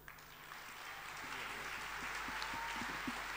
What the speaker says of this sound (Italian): L'applauso di Sorrento allo straordinario talento di Mariano Rigillo